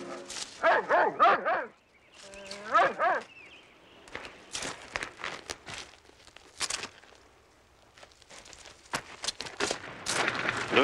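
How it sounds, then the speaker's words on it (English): Upset dogs in a video game bark in sharp bursts and whimper with high, wavering cries. Short barks and footstep-like shuffles follow, then a louder cluster of barking at the end. "now he has the dogs upset and one of them sick"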